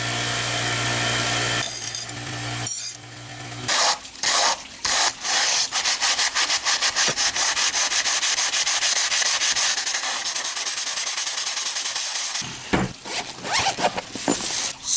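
A homemade knife blade is scrubbed with a scratchy abrasive sponge in fast, rhythmic rasping strokes, close and loud. There are a few short pauses early on and a break near the end.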